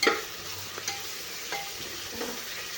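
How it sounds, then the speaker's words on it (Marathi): Ginger-garlic paste sautéing in a pan for veg biryani pulao gives a soft, steady sizzle broken by a few sharp stirring scrapes and clicks, close up and with no talk. "अद्रक आणि लसूणची पेस्ट टाकलेली आहे त्याला पण थोडंसं चांगलं आपल्याला मस्त परतून घ्यायचं आहे"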